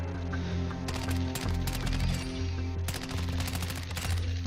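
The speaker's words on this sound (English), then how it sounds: "Even at range, this gun shreds." Rapid automatic fire from the Chimera rifle in Modern Warfare 2, close and loud in two dense bursts separated by a brief pause, over a constant low game hum.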